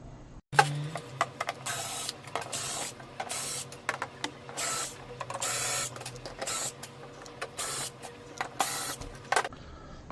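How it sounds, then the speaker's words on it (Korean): A joystick's plastic packaging case opened from the back, with repeated crinkly, hissing bursts of rustling plastic and small clicks, close and fairly loud, with no talking. "케이스는 뒤쪽을 개봉하겠습니다"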